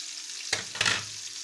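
Oxtail browns in a frying pan: a close, crackling sizzle with two short bursts as the meat is turned and pressed against the hot surface.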